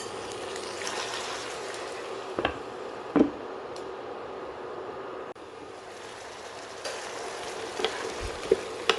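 Chettinad chicken uppu kari fries in a pan with dried red chillies and no added water, a steady close sizzle broken by a few soft scrapes and knocks as the pieces are stirred.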